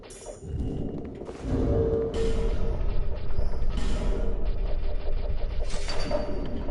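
A heavy door mechanism grinds open in Dark Souls 2, with creaking, thumping machinery that swells after a soft start and runs steadily loud and near to the end, with no talk over it.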